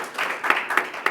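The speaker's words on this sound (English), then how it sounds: "Please help me welcome her with a round of applause." A crowd applauding, a dense patter of clapping that swells in a few bright bursts before tapering, moderately loud and close.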